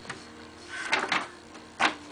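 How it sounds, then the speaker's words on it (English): An office printer runs with whirring mechanical passes and two louder feed bursts, close and alone. "Work, printer, work."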